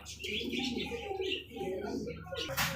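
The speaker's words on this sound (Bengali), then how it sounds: "আরো এক পেয়ার বোম্বাই কবুতর" Soft cooing and light calls from a pair of Bombay pigeons close by at a pigeon market, blended with a background of murmuring voices.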